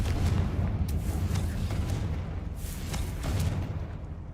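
A Confringo fire spell bursts in the Hogwarts Legacy video game, a deep rumbling blast with a few sharp cracks layered over a steady low roar.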